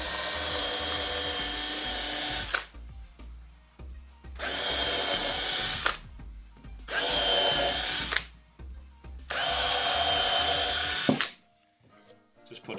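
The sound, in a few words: power drill drilling holes in timber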